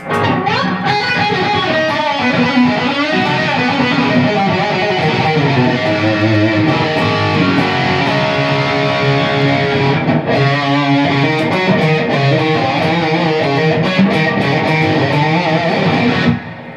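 Electric guitar through a Bugera 212V-BK 140-watt amp with a wet, reverberant tail, strummed chords and sustained notes played steadily and loudly, no talking.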